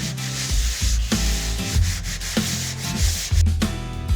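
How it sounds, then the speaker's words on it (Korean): Sandpaper is rubbed by hand over the hull of a wooden canoe in quick, even strokes, a close, rhythmic scratchy rasp repeating roughly twice a second with no talking. "최종 마무리는 사실은 이 사포가 결정합니다."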